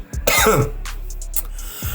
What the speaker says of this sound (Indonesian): Sorry, gue batuk dulu.